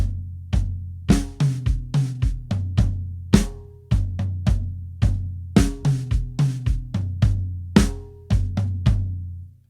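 A drum kit plays a steady groove with the bass drum thumping on all four beats, punchy snare and bright cymbal hits layered over it in a loud, driving rhythm, with no talking.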